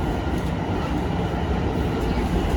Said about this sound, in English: Here's the other train passing us.